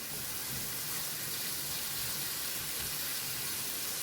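Bacon cooking in a pan for bacon and cabbage fried rice gives off a steady, dense hiss, constant and fairly faint throughout with no talking.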